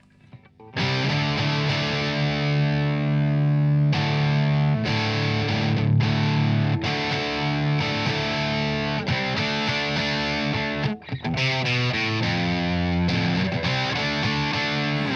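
Les Paul electric guitar played through a Tube Screamer and old pedals, a mid-gain distorted tone with sustained chords and riffs, loud and steady with brief breaks between phrases.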